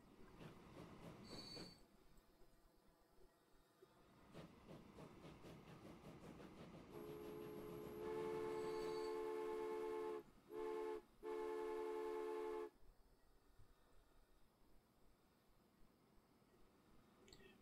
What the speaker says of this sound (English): big train is leaving